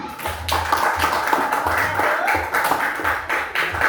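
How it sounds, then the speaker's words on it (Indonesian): Elementary school pupils clap for a classmate group after a discussion, a loud, fairly rhythmic patter of many small hands in a classroom, with a low hum underneath and no words. "Tepuk tangan dulu untuk mereka."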